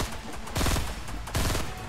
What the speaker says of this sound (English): Some gunshots on the right.